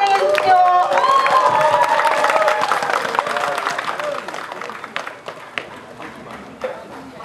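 Audience at an outdoor anti-nuclear rally clapping to welcome a speaker, a dense burst of applause over crowd noise that gradually thins into scattered claps.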